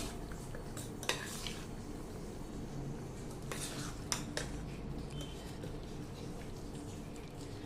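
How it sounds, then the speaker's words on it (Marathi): Boondi raita, yogurt with boondi and black salt, stirred with a spoon in a bowl: quiet scraping with a few faint clinks against the bowl, low and close, with no talking. "आणि हे रायतं छान हलवून घ्यायचंय"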